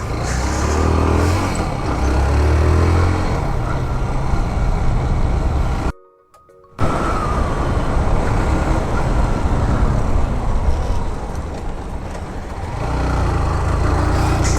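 A petrol vehicle ridden along a road, its engine misfiring for several days, gives a loud continuous drone of engine and road noise that cuts out briefly partway through, then resumes steadily.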